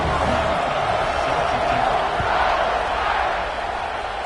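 A football stadium crowd roars at kickoff in a dense, loud, continuous wash of cheering and shouting that swells slightly and then eases toward the end.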